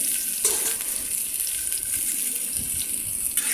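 Tomatoes and green chillies fry in hot oil on a tawa, giving a constant close sizzle and hiss with faint watery crackle and a light stir or two. No one speaks.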